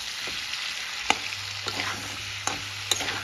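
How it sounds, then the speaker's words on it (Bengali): Tomato and vegetables fry for a fish curry, a close steady sizzle in a pan broken by a few sharp clicks of a spoon stirring against the metal. "এবার আমি এখানে অ্যাড করে দেব একটা টমেটো। দিয়ে আমি আর একটু নেড়ে নেব,"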